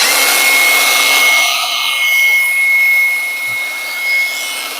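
A Vrill VAG2100 cordless brushless angle grinder switched on and running, giving a steady loud high-pitched whine with a constant tone that wavers slightly in level, no talk over it.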